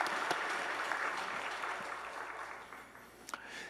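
A church congregation claps during a Sunday worship service, a soft, steady wash of many hands that fades gradually toward the end.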